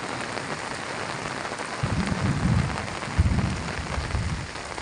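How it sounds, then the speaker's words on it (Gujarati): Heavy rain pours down on a farm in a steady, dense hiss, with a couple of low rumbling gusts partway through and no voices. "જોઈ લો મિત્રો વરસાદ પડે જોરદાર પડે છો વરસાદ"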